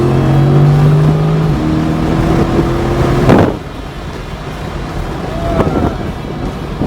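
A race car at Xtreme Xperience accelerates on the track, its engine droning in steady tones under wind buffeting before a sharp surge and drop-off as it passes, followed by quieter engine noise.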